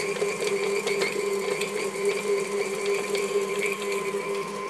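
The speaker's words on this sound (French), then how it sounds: "Ce sont les deux premiers ingrédients que nous allons travailler ensemble dans le robot" A food processor beating sugar and butter together, a steady whirring motor hum with faint rhythmic mechanical ticking, running evenly and close without pause or talk.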